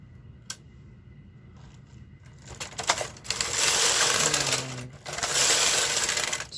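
A domestic knitting machine carriage swishes across the bed knitting jacquard rows without a ribber, making two long, loud rasping passes after a few faint clicks.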